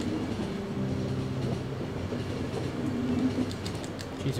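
Train rumbling and clattering in the video game The Final Station, a steady dense low roar with faint tonal hum and sporadic metallic clicks, continuous and fairly loud throughout.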